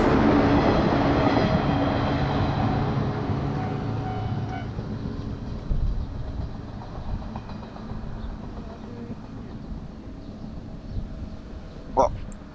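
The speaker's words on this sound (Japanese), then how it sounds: "山陽本線の電車が通っています。" A Sanyo Line electric train passes near a shrine in Yamaguchi, Japan, its loud rumble and rolling rail noise fading steadily as it moves away, followed by quieter ambient sounds and a short click near the end.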